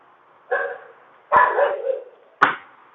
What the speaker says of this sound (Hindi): सोच के देखो कितना तेज भौंक रहा है वो